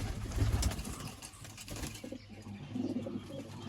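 Pigeons cooing close by, low throaty calls repeating over a rustling background, with a brief flutter of wings.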